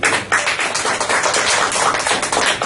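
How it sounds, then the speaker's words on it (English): Toastmasters club meeting audience applauding a speaker, a dense steady patter of many hands clapping together for a few seconds, fairly close, with no voices over it. "don't forget to give our speaker another big round of applause"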